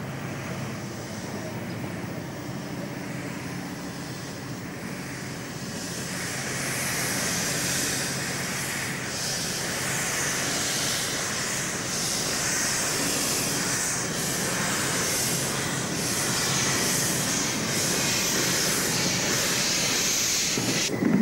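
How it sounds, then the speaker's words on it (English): Black Prince, a narrow-gauge steam locomotive without smoke deflectors, stands in steam outside New Romney shed, giving a continuous hiss and soft rumble that grows slightly louder partway through, with no voices. "Here, Black Prince, minus her smoke deflectors, is in steam outside New Romney's shed."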